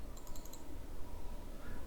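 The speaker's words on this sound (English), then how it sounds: "press enter on your keyboard" Brief, faint tapping on a computer keyboard, a short burst of several quick keystrokes near the start, then a quiet room with no talking.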